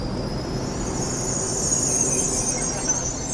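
An LNER Azuma train, unit 800-207, passing through Doncaster station gives a steady high metallic whine and rushing rail roar that swells slightly in the middle, close by with no voices.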